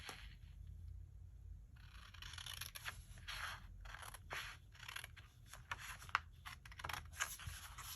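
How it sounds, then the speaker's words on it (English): Small scissors cutting paper, faint close snips and scraping strokes in an irregular rhythm, with no talk. "I'm using my little scissors,"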